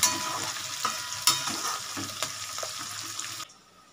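Garlic, onion and potato pieces frying in a pan sizzle steadily up close, with scraping stir strokes and knocks before the sound cuts off near the end.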